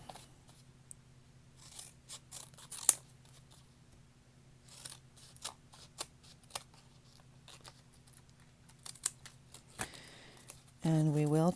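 Scissors snip through paper to cut out a collage piece, making quiet, scattered clicks and short cuts at an irregular pace, with a brief louder sound at the very end.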